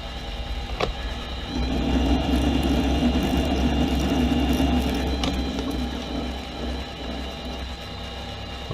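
A metal lathe takes a thread-cutting pass on a clutch cup part: a steady mechanical whir and hum runs throughout, swelling slightly partway through, with a sharp tick near the start.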